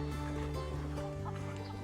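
Chickens clucking and murmuring close by, a soft continuous chatter from several birds over a low background hum.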